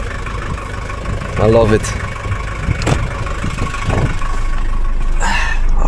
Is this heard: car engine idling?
yes